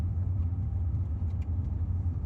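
Car engine running in second gear at about 1500 RPM during a drive through a Texas park, a steady low rumbling drone heard from inside the car, without speech.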